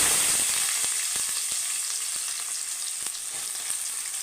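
Onions tipped into hot oil set off a loud, even sizzle that stays close and constant, with light scattered pops and stirring clicks throughout.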